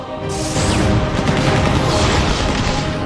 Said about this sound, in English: Gunshot rings.